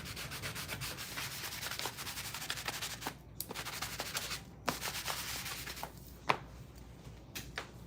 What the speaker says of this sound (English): Take my sanding block and let's prep this. Rough up that surface a little bit.